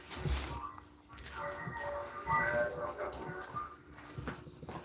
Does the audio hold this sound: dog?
yes